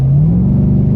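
A 2023 Ford F-150 Raptor R switched to sport exhaust mode gives a short, deep revving rumble up close, the engine note climbing briefly before settling into a low, throaty drone.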